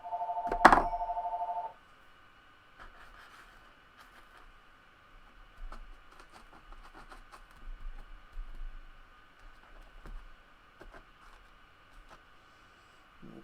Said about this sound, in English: There goes the phone. My phone, not yours.